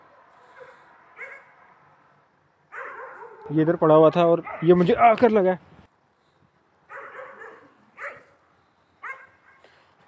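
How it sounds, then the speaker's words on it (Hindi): Dogs bark repeatedly in short bursts at a distance, faint and intermittent, while someone talks loudly nearby in the middle of the stretch. "कुत्ते उससे पहले के भौंक रहे हैं मुसलसल।"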